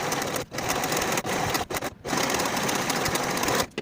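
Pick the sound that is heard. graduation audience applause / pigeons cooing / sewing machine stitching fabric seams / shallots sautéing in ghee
sewing machine stitching fabric seams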